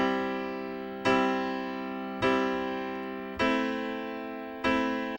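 Piano plays a three-chord progression in clear, unhurried strikes, each chord ringing and decaying before the next one lands, five attacks in all with no voices.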